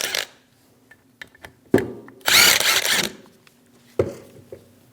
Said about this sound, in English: Using a T55 bit, remove the caliper bolts.